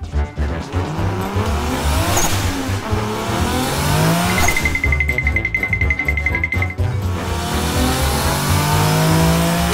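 A toy car racing at a child's play, with loud sustained engine revving and repeated tire squeals and skids, a long electronic beep in the middle, and no talking.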